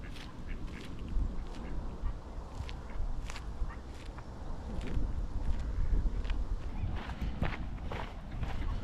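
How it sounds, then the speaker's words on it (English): Ducks quack in scattered bursts nearby, with light footsteps and outdoor background noise underneath, in Kinghorn. "It's the thing about ducks, or they're absolutely the ballsiest of birds."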